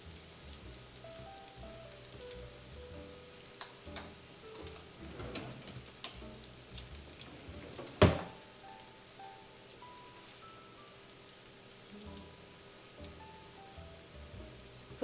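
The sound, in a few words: beignets frying in hot oil in a pan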